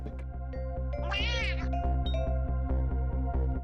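A cartoonish cat meows from the Ghost Trick video game in a single rising, wavering cry near the middle, set over steady looping game music with a rhythmic beat.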